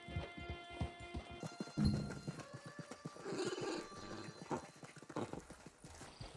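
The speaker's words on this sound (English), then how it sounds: "Get your horse." Horse in the Red Dead Redemption 2 game: a clear neigh near the start and steady clip-clop of hooves throughout, with soft ambient game sounds behind.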